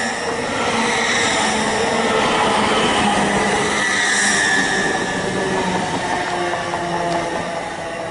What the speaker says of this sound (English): Incoming now, we have the 1208 LNER service to Peterborough.